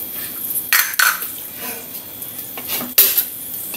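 A lid goes onto a pan of chicken browning without added oil, heard as two sharp metal clanks about two seconds apart over a faint background hiss.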